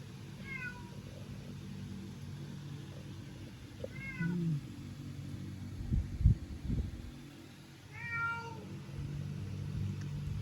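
Several short, high Siamese kitten meows come in separate bursts over a quiet background with a soft low hum and a few faint bumps.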